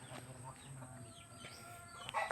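Chickens cluck softly in a farmyard among turkeys and ducks, with a louder burst of fowl calls near the end against steady background noise.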